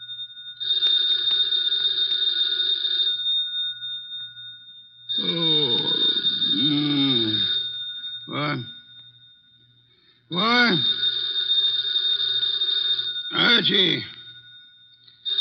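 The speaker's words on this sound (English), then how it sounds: "The phone." An old telephone bell rings in a radio drama: bright, repeated bursts of ringing with short pauses between them, while voices speak over and between the rings.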